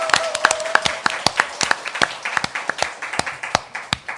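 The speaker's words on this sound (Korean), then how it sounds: "여러분의 힘찬 박수와 함께 시작하겠습니다." A studio audience claps for a Korean current-affairs talk show, a scattered run of sharp, distinct handclaps at an uneven brisk pace, fairly close and with no talking.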